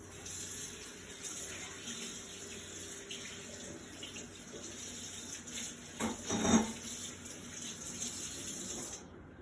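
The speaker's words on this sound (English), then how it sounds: "Rinse off our hands." Tap water runs steadily while hands are rinsed at a kitchen sink during potato salad prep, a continuous faucet hiss that swells briefly near the end and then cuts off.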